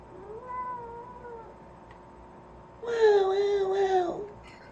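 A pet cat meows, one faint mew early on followed by a louder, drawn-out yowl near the end, heard alone without talk over it.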